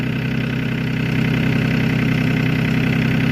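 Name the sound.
tractor engine idling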